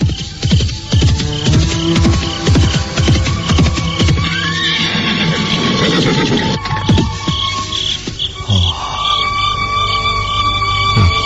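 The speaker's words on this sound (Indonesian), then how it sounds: "Arya Kamandanu menghentikan lari kudanya." A horse neighs loudly as its rider halts, a long shrill whinny over hoofbeats and dramatic background music, followed by snorting and a steady hum, all close and prominent.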